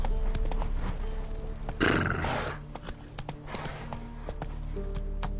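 A horse in The Witcher 3 video game gallops with steady clip-clop hoofbeats and lets out a loud neigh partway through, with game background sound throughout.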